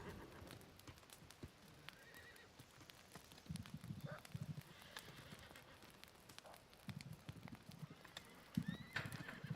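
Horse mount in the video game New World Aeternum, faint clip-clop hoofbeats with occasional whinnies over a soft ambient background, quiet and steady.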